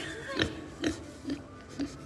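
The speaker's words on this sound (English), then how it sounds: "This is one of Anna's pigs." A pig in a barn gives four short grunting oinks at a steady, evenly spaced rhythm, close and moderately loud, with faint background noise.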